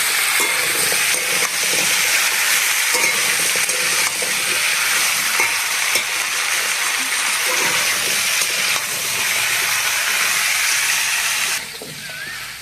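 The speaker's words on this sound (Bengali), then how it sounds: "সবজিগুলো কিন্তু ভালো করে ভাজতে হবে, ভাজলেই চচ্চড়িটার টেস্ট আসবে।" Radish and mixed vegetables for a chorchori fry in a pan while being stirred, giving a loud, continuous sizzle with wet spatters and occasional scraping throughout.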